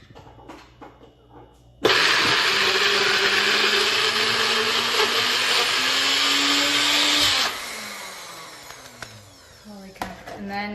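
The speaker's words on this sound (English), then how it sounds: "So take your little blender thing." A small kitchen blender whirs loudly while blending a cucumber pate, switching on abruptly and running steadily for about five seconds before cutting off, with quieter kitchen handling sounds before and after.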